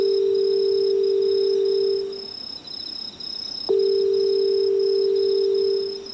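A telephone rings out unanswered: a long steady electronic ringback tone, a short gap with a click, then the tone again, loud and close with no voices.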